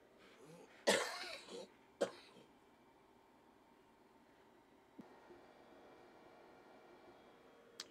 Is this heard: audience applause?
no